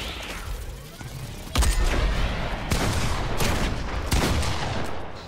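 Gunfire in the video game Fortnite, with a dense rattle of rapid shots and several louder bursts layered over continuous background game noise, close and fairly loud.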